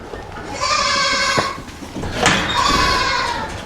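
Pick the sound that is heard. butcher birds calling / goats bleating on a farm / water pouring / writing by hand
goats bleating on a farm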